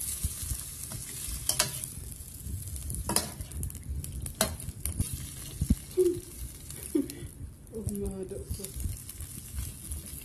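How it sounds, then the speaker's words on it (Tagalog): Chicken sizzles in a frying pan for bihon noodles, with steady frying crackle, scraping stirs and occasional utensil knocks, fairly close. "igigisa ko siya dun sa chicken"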